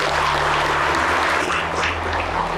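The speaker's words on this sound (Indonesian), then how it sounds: "Boleh Bapak Ibu tepuk tangan dulu lah ya" A seated audience at a Buddhist Dhamma talk in a vihara claps together, a dense, even wash of applause over a low steady hum.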